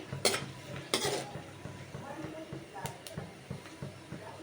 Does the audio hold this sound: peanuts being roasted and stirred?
yes